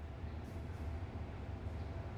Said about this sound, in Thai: ทีนี้พอรถไฟ เริ่มวิ่งเข้ามาเรื่อยๆนะครับ